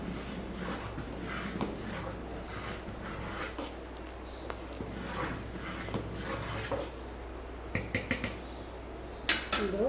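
Metal spoon stirring sambar masala into sambar in a cooking pot, soft scraping and clinking against the pot, with a few sharper taps near the end, close and fairly quiet.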